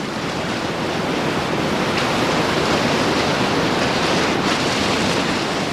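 Turbulent river water rushes through rapids in a loud, unbroken broadband roar that stays constant from start to finish, with no voices.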